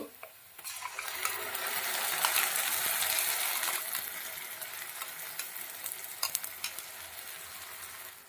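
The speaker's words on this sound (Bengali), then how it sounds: "এবার একটু ভালো করে পেঁয়াজের সঙ্গে কষিয়ে নেব।" Onion sizzles in a pan as green chili, coriander leaf and garlic paste are stirred in, a rising burst of frying hiss followed by scraping and clinking of the spoon, close and steady without voices.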